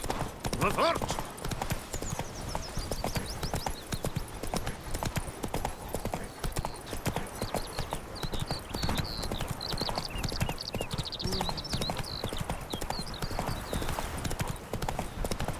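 Hooves of the horse Roach clip-clop in a fast, steady galloping rhythm in The Witcher 3, continuous and close throughout, with a brief whinny early on and a voice speaking over it.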